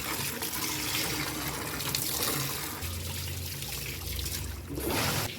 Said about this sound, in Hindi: बस बाहर जाने दो पानी।